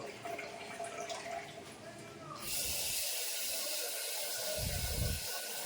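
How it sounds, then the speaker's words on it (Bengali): Rice is washed in water in a home kitchen, a steady hissing splash of running or swirling water that grows fuller partway through, with low rumbling sloshes near the end. "ধুয়ে এবার চালটা ধুয়ে নিচ্ছি"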